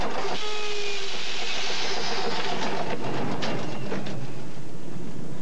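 A city tram rumbles along steadily nearby, with a brief squeal at the start and faint rhythmic clacking of wheels over track joints.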